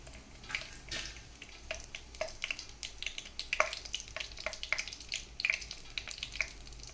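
Fennel seeds, bay leaf and cinnamon fry in a little oil in a kadai, giving a soft continuous sizzle with scattered sharp crackles and pops, heard alone.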